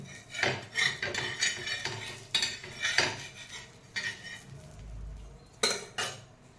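A metal utensil scrapes and clinks against a pan as a cooked dosa is lifted off, with a short series of close, distinct scrapes and light taps. No one speaks.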